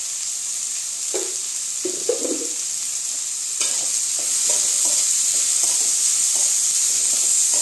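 Onion frying with salt in a pan, a steady close sizzle and hiss with a few scraping stirs near the start, growing slightly louder partway through.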